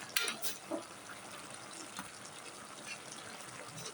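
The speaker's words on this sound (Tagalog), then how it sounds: "lagay ko ng kakanggata para humibas na rin kaagad" Coconut cream poured into a pot of cooking green papaya for ginataang papaya, a soft liquid gush and splashing with a light sizzle underneath, near and fairly quiet.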